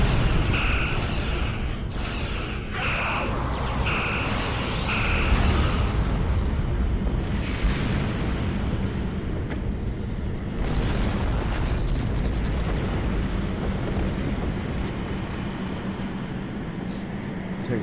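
High-yield torpedo explosions in Star Trek Online, a series of rumbling blasts and bursts early on, then a continuous roaring, crackling wash of space-battle noise, loud throughout.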